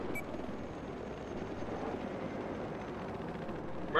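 A steady helicopter rotor drone in Battlefield 4 on the Siege of Shanghai map rumbles throughout, moderately loud, with a sharp burst of noise at the very end.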